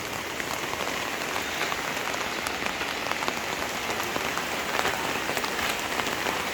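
Steady, dense rain pours in strong wind and splashes onto hard surfaces, a constant hiss with scattered drips and spatters throughout, no voices.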